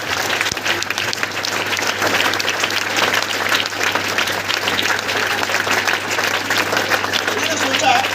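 Loud, steady applause from an audience at a motivational business training seminar, continuous clapping filling the room for the full stretch with crowd noise mixed in.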